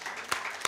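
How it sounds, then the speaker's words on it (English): A crowd of students applauding the schools at an anniversary celebration, a brief, steady patter of many hands clapping at a distance with a couple of sharper, nearer claps standing out. "Please, let's clap for them."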